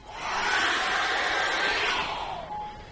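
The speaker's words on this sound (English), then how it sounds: "I'm going to dry that really well now with a hairdryer." A hair dryer blows steadily on acrylic paint for a few seconds, a close, even airy whoosh that swells and fades slightly, with no talking.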